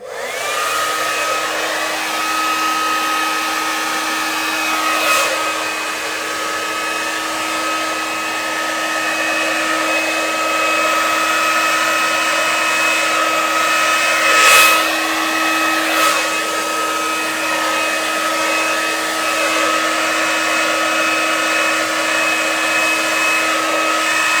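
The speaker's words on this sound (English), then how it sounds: "you're going to hear the hairdryer" A hair dryer blows continuously with a steady high whine and airy rush, loud and close, with a few brief knocks partway through, used to dry a Dutch pour acrylic painting.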